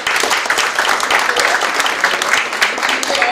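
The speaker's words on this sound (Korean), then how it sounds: "김재국 의원님에게도 큰 박수" A crowd at a town-hall citizens' meeting in Icheon's Gwango-dong applauds a council member, a loud, continuous burst of many hands clapping with no break.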